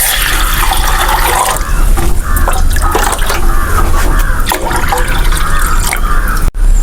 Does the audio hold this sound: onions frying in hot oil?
no